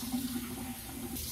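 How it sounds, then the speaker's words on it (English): Hot water runs steadily from a kitchen tap, a continuous close hiss and splash into the sink with no talking. "The water from my tap is honestly hot enough, so I just let it get hot for a moment"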